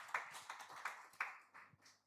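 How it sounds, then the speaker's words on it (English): Light audience clapping at a conference event, a sparse scattering of claps from a small crowd, fairly faint and brief, with no talk over it. "Even as he takes his seat, we can clap for him."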